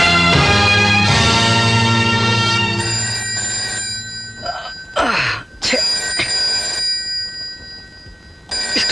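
A telephone rings loudly in a Kannada film scene, a sustained bright ringing tone that breaks off and returns in bursts, with no one speaking.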